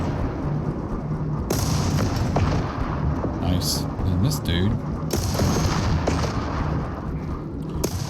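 Cannons fire at enemy vehicles in the TerraTech Worlds video game, booming shots over a constant loud engine rumble, while a person talks briefly.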